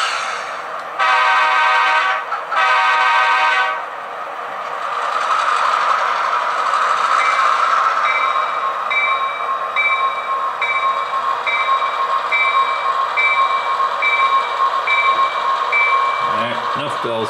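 Model train consist running through a miniature rail yard, a steady mechanical whir and hum with two short bursts of a horn early on and a faint repeating chime later, close and moderately loud.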